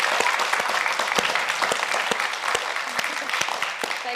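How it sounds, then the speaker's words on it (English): A studio audience applauds the author Jacqueline Wilson with steady, dense clapping that holds at an even level throughout, sharp individual claps standing out from the wash. "let's give a huge round of applause to the incredible Jacqueline Wilson"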